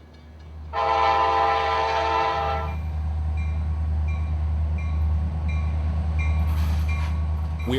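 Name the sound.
loaded freight hopper cars squealing on a sharp rail curve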